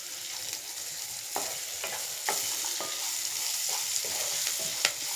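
Carrots and capsicum are stir-fried in a pan with a soft, steady sizzle. Light scrapes and taps from a spatula are heard now and then, with no talking.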